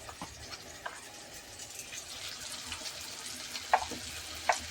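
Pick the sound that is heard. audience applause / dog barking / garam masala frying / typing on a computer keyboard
garam masala frying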